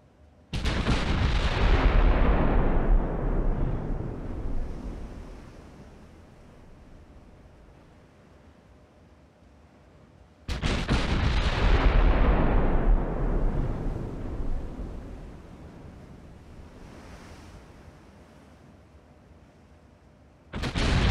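Naval artillery fire from the Ultimate Admiral: Dreadnoughts warship game, two loud heavy broadside booms about ten seconds apart, each with a long rumbling decay that fades into quiet, rolling sea-like ambience, with no talking.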